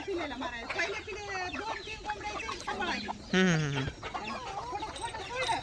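Free-range village hens on a small farm shared with cows cluck and cackle steadily at close range, several birds overlapping, with one louder squawk partway through and a faint crow mixed in.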